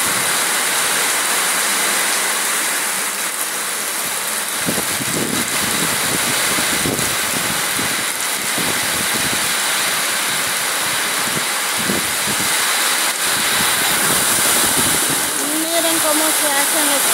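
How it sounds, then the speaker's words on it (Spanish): Sudden heavy tropical downpour with strong wind, a loud steady roar of rain that drums on a metal roof sheet rattling in the gusts, continuous throughout, with someone talking over it in places. "Está lloviendo muy fuerte,"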